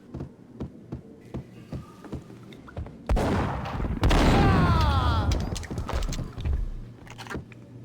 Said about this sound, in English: It's Payne! Gun him down!